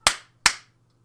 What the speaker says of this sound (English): I closed my eyes and clapped my hands twice.